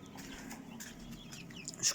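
Soft clucking from a few chickens at moderate distance, with a low steady background hum and a brief sharper call near the end.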